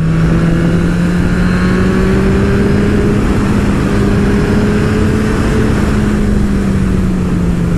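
Motorcycle engine pulling hard under acceleration while riding, a loud continuous drone with rising pitch close to the rider, wind noise mixed in and no speech.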